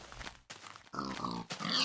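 Pig grunts in the Minecraft video game, several short oinking grunts in quick succession, close and clear with no talk over them.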